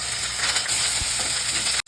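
Onions, green chilies and curry leaves frying in sunflower oil give a steady, close sizzle, with a faint stir partway through and a brief dropout near the end.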